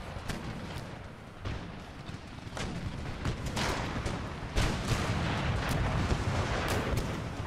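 Cannons fire explosive rounds in the Empire Total War game, a dense barrage of booming blasts and sharp cracks overlapping at irregular intervals, loud and continuous with battle noise underneath.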